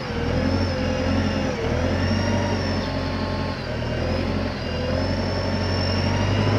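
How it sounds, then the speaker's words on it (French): A Hyundai forklift driving with a load on its forks, its engine holding a steady loud drone with slight shifts in pitch as it moves, close and continuous. "Donc c'est un chariot qui a de la pêche."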